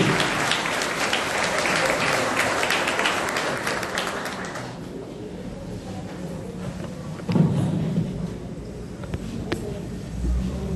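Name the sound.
louder audience applause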